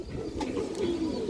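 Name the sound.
black Sapchila female pigeon cooing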